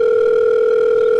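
A telephone dial tone sounds as a steady, loud, unbroken hum while a call is being placed.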